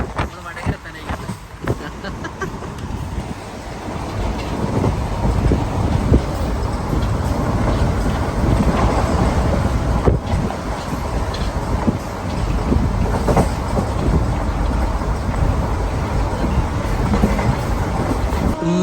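A passenger train rumbles along the rails near Vadakara with steady low roar, wind noise and faint clickety-clack throughout, while people talk over it.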